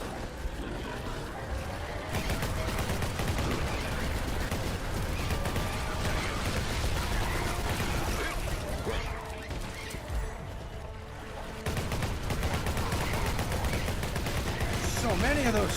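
Sustained Gatling gun fire in a fantasy combat video game, dense rattling bursts with a brief lull before resuming, amid cluttered game effects and some talk.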